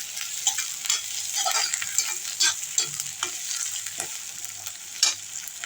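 Anchovies fry in a pan with garlic and curry leaves for nethili meen thokku. A close, steady sizzle runs throughout, broken by repeated scraping stirs.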